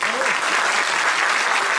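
A live evening show audience bursts into loud, dense applause, a full steady roar of clapping from a packed crowd, with faint voices mixed in beneath it.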